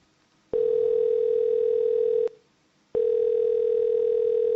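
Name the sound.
telephone dial tone after the call is hung up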